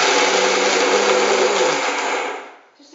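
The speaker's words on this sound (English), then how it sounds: "I'm going to just grind the dry ones a little bit first" A blender grinds dry ingredients on low speed in one continuous close, loud whirring burst that winds down and stops near the end.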